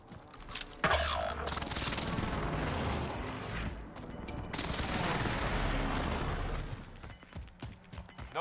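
Airstrike run in Call of Duty Warzone, a sustained rumble of rapid explosions and gunfire lasting several seconds, loud and dense, then thinning out at the end.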